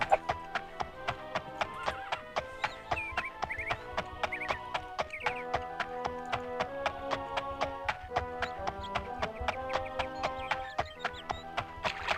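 Horse hooves clip-clopping in a steady even rhythm while riding in the video game Daggerfall, loud and close, with an occasional whinny, repeating throughout with no talk.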